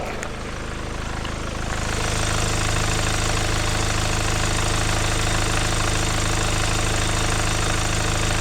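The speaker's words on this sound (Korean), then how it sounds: "전유 카니발 엔진 소리 한번 들려드리도록 하겠습니다" A 2019 Kia Carnival seven-seater's diesel engine idles steadily with a dense, even rumble and clatter, sounding close by and unbroken throughout.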